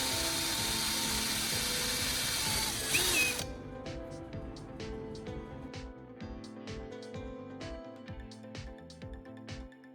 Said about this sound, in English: drilling a precise central hole using a step drill bit